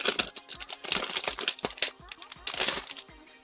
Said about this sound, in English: Excuse all the paper noises.